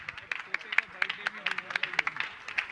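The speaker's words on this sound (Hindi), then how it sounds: "आप लोग बड़े कमजोर हैं तालियों के मामले में" An audience claps at a Jain religious gathering, scattered, uneven hand claps from a modest crowd, fairly close and moderately loud, with a voice speaking underneath.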